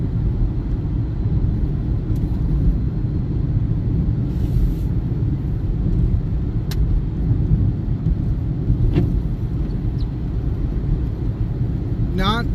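A car drives through snow on a road in Logan County, Colorado, giving a steady low rumble of engine and tires that holds at an even level throughout, with a brief chirp near the end and no talk.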